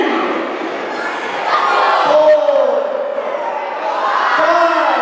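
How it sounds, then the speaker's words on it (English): A wrestling match crowd counts along in loud unison, rising and falling in shouted waves that fill the arena throughout. "This crowd counting along."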